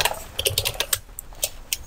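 Fingers type on a computer keyboard to enter PHP code for a MySQL database connection, giving a quick run of light, close keystroke clicks with no one talking.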